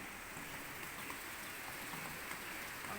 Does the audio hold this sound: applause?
no